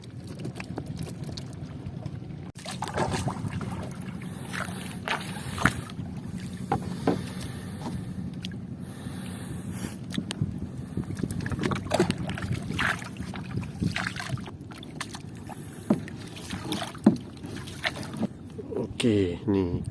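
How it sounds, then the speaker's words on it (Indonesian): Several boats out on the sea during a tuna fishing trip, with boat noise and gusty wind buffeting the microphone, under frequent nearby talk. "Ini ada beberapa perahu."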